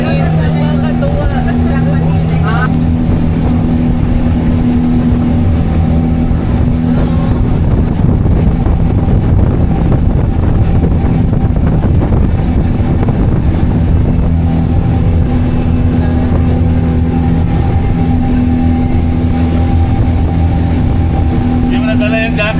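Strong wind buffets a fast-moving speedboat serving as a sea ambulance bound for Basilan. The wind rushes and gusts over a steady engine roar, loud and close throughout, with voices faintly under it.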